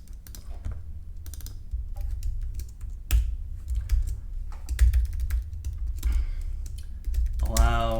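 Rapid keyboard typing on a computer during a live game-feedback stream, a steady run of soft clicks with brief bursts, heard under a faint voice that comes in near the end.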